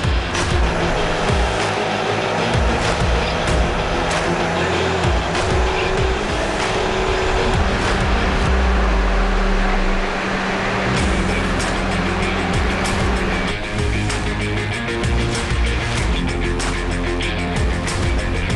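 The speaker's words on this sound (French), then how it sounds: "on va le tester sur le banc d'essai" A powerful car engine roars steadily at high revs on a dynamometer during chip-tuning testing, with shifts in tone as it climbs and settles, loud and close with no talking.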